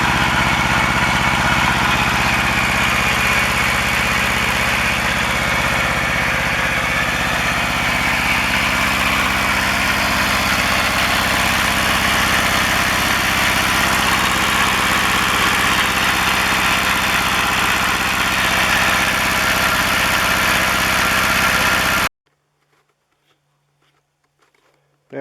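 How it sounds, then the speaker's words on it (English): A Kubota L175 tractor's small diesel engine idles loudly and steadily after its first start in years, with an even, throbbing chug that runs for over twenty seconds before cutting off abruptly into near silence. "That was the first start of the little Kubota in at least 2 years, maybe 3."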